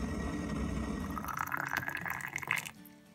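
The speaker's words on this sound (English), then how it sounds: "I'm gonna run the bottle under some hot tap water just to warm it up a little bit" Hot tap water running over a plastic bottle in a kitchen sink, a steady rushing splash whose pitch and gurgle shift as the stream hits the bottle, then cuts off near the end.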